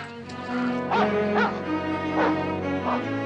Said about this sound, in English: Sure, wild dog, isn't it?